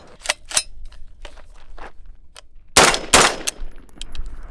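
An AR-15 rifle with a malfunctioning trigger reset and its gas setting opened up fires outdoors in irregular sharp cracks: two early shots, a few lighter clicks, then two loud close reports near the end.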